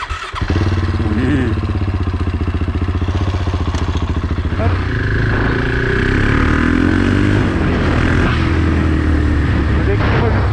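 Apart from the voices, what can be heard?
KTM 690 motorcycle engine starting and revving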